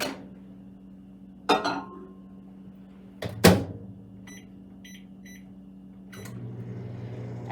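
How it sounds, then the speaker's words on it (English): A microwave oven boiling water hums low and steady beneath a door clunk, a couple of clicks and sharp knocks, and a few short beeps before the hum resumes. "I'm going to show you how to boil it in the microwave."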